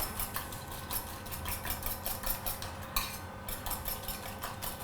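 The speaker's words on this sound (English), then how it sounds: "Then you just whisk all of this up." Porridge mixture of oats being whisked in a bowl, a quick run of rhythmic metallic taps and scrapes repeating steadily, close and clear with no voices.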